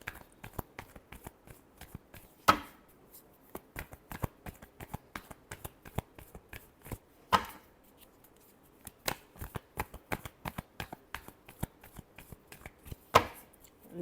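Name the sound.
shuffling tarot cards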